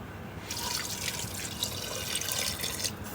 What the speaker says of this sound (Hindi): पानी इतना तो होना चाहिए कवर हो जाए गोश्त ना